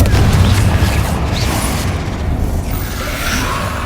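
A Confringo blast spell explodes in the Hogwarts Legacy video game, a loud, dense booming burst with crackling debris and rumble that fills the moment and slowly tapers without dying out.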